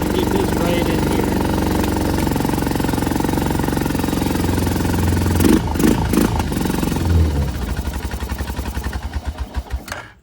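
A used ATV engine runs steadily and loud, a rough mechanical chatter, then revs and sputters toward the end as the throttle pulses; someone talks briefly over it.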